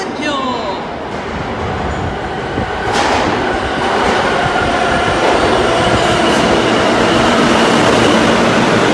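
A New York City subway train on the F/M lines pulls into 23rd Street station, its loud rolling rumble and rattling wheels building steadily and filling the platform for the full stretch.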